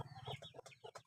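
Chickens clucking close by, a quick string of short rhythmic clucks and chirps, fairly faint with no speech over them.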